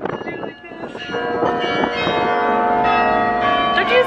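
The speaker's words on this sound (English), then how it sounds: "Don't you just love bells? I love bells." Church bells ring in overlapping, sustained metallic tones that build and hang in the air, fairly loud and steady throughout, with faint voices early on.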